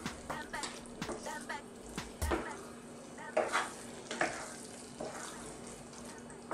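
Arroz valenciana with peas is stirred in a pan: soft scraping and rustling strokes with gentle sizzling and a faint steady hum, recorded close and fairly quiet.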